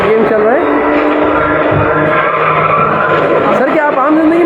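Car racing arcade game with virtual tires skidding and squealing, repeated rising and falling screeches over a continuous engine roar, loud and close in a busy arcade.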